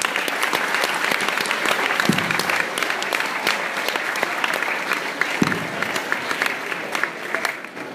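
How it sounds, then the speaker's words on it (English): An audience at a school graduation ceremony applauds the staff with sustained, even clapping from a large crowd, a few louder claps standing out. "I want to acknowledge and applaud our staff"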